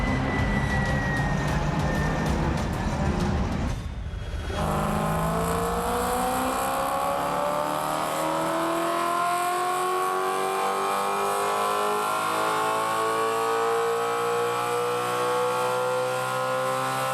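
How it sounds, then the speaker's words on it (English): Race cars on the GRIDLIFE track accelerating hard, a loud engine roar that cuts off abruptly, then a rising whine as another car climbs through the gears on the straight. "And Houghton accelerating past Matt Waldbaum on the back straightaway, going for the lead again."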